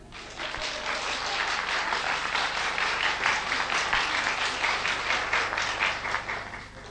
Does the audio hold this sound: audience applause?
yes